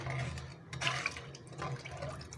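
Water sloshed about in a cooking pot with cream as desi ghee is separated, a close, wet swirling and splashing that surges and eases in uneven waves.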